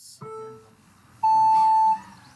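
Starting beeps for an FPV drone race: a short low tone, then a long, loud, steady higher beep lasting about two-thirds of a second, clear against faint background noise.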